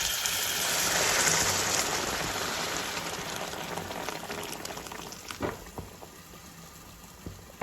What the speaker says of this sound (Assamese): মই ইয়াতে গৰম পানী যোগ কৰিম